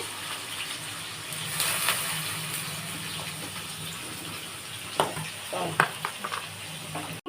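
Chopped carrots sizzle steadily in a hot pan while being stirred, with scraping and spatula knocks growing more frequent toward the end; the frying is fairly quiet and close, with no talking.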